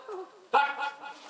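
A dog on a road gives one short, sharp bark that rises out of surrounding voices, followed by softer yelping sounds during a folk stage performance.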